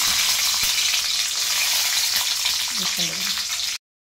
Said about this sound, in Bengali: এই যে দেখুন, আমি এখানে চীনাবাদামগুলো ভেজে নিচ্ছি।